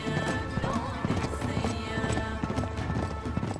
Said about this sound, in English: This horse really riding itself, like.